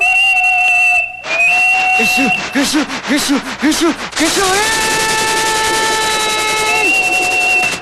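A cartoon steam locomotive chimney gadget lets out a bright, sustained whistle. The tone bends in pitch, pulses in a run of short wavering bursts, then settles back into long steady hoots.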